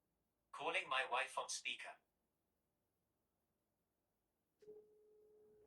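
An iPhone places a call on speakerphone through Siri: after a short spoken command, a steady single-tone ring or dial signal sounds from the phone's speaker, clear and close in an otherwise quiet room.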